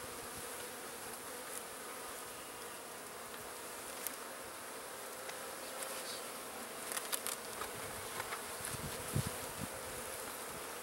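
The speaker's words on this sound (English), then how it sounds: "Wow, there's a ton of bees in here." Honey bees swarm inside a nuc box during hive installation, giving a dense, steady buzzing hum that fills the space, close and continuous with occasional faint clicks and rustles.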